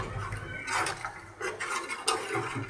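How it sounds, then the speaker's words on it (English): A spoon stirs sugar into milk boiling in a pot on a gas stove, making intermittent scraping and metallic clinks against the pot's sides in short bursts. "I'm going to put in some sugar over here, let it stir,"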